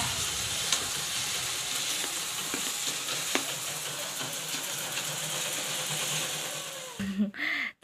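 Lai pata shak leafy greens fry in a pan with a continuous close sizzle and occasional stirring clicks, the sound cutting off abruptly near the end.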